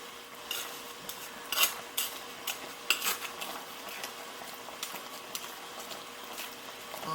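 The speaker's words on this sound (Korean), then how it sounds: "이렇게 바글바글 끓고 있죠?" Tangerine jam bubbles in a pot over high heat, a soft steady boil under scattered clinks of a spoon or utensil against the pot. No one speaks.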